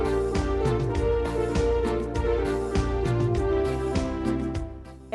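A keyboard on a duet setting playing only the lower notes, a sustained layered tone with moving bass and chord changes and rhythmic attacks throughout, loud and continuous for about five seconds, with no talk.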